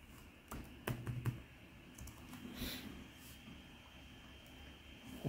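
A handful of soft keystrokes tap on a Lenovo ThinkPad T570 laptop keyboard in a short quiet burst, followed by near silence.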